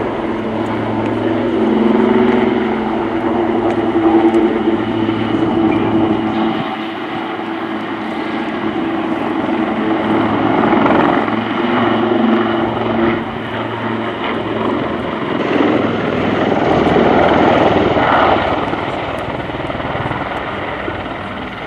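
Pair of Royal Navy Black Cats helicopters climbing steeply and nosing over at an air show, a continuous loud rotor and engine drone that swells and fades as they maneuver overhead.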